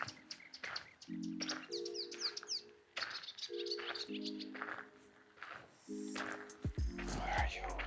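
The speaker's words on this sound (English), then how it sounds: "I can hear some other birds close to me, but I can't see them." Birds chirp and call close by in woodland, quick bright tweets in repeated bursts, with a person speaking at intervals in between.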